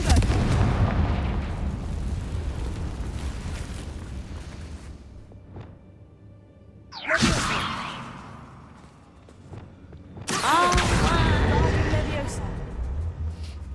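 Confringo fire spell blasts in the Hogwarts Legacy video game: two loud whooshing, booming bursts a few seconds apart, with a steady game soundscape running under and between them.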